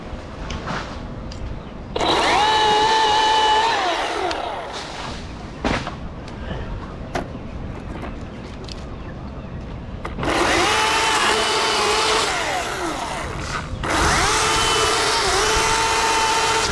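A chainsaw screams through a brittle dipterocarp tree in wind in bursts, revving high for a few seconds at a time, with quieter idling and rustling between cuts.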